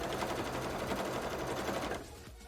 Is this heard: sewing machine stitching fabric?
yes